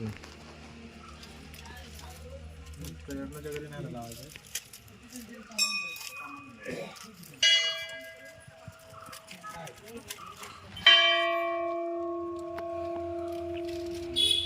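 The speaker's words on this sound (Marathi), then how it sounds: "किती मोठी घंटा आहे बघ" A large temple bell is struck about three times, each strike ringing out in long, sustained tones that slowly fade, with voices talking early on.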